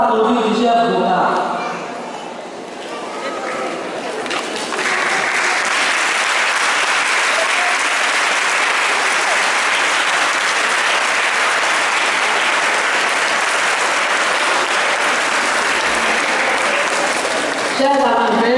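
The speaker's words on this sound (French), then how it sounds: "levons-nous comme un seul homme et en guise de remerciement, acclamons nos parents" An audience stands and applauds the parents at a ceremony, loud sustained clapping from a large crowd that swells after a few seconds and holds steady to the end, with a voice heard briefly at the start.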